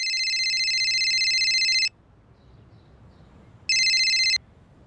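A telephone rings twice on a call to a family, each electronic trill lasting about two seconds with a pause between, fairly clear over a quiet background.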